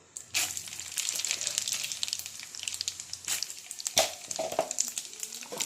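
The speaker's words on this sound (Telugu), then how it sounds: "తాలింపు గింజల్లో మినపప్పు, పచ్చెనగపప్పు, జీలకర్ర, ఆవాలు, కరివేపాకు వేసేసేయండి" Urad dal, chana dal, cumin, mustard seeds and curry leaves fry in a little hot oil with dried red chilli for amla pickle tempering, a bright steady sizzle with sharp crackling pops and a few louder spits, close and alone.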